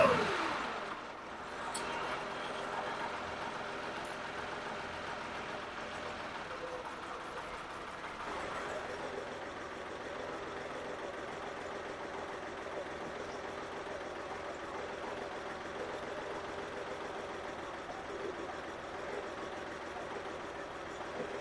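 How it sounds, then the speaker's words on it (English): Engine fitted with a rebuilt Zenith 40TIN carburetor idling while its mixture screw is adjusted, a steady low mechanical hum with a slight shift in pitch partway through, close and moderately quiet. "I'm going to adjust it for the highest idle, and then tune my idle speed from there."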